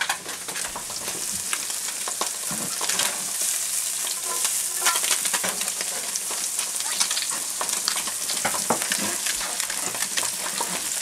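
Shiitake mushrooms, sun-dried tomatoes and serrano chili sizzle and crackle steadily in a hot pan, with occasional stirring scrapes and pops throughout.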